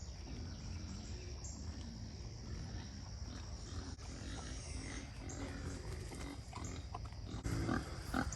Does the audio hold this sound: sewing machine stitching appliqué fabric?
no